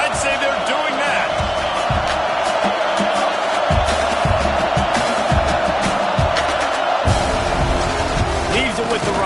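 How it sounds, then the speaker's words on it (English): A stadium crowd roars steadily in the NCAA 26 college football video game, a dense, loud wash of cheering with a commentator talking over it throughout. "They challenge this crowd to bring the energy, and I'd say they're doing that."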